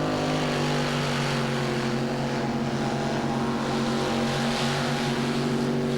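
Tractor pulling engine on a full pull run at a 1994 Euro Series event in Holland, a loud, continuous roaring drone with a strong steady harmonic growl that holds without a break throughout.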